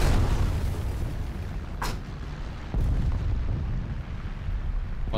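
A bomb explodes in War Thunder, a loud low boom over a dense rumble of combat, with sharp bursts near two and three seconds.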